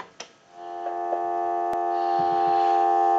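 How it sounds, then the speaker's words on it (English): A steady telephone dial tone hums through a Western Electric 500 rotary phone connected to an analyzer, holding evenly throughout after a couple of faint clicks at the start. "And we'll give you some dial tone."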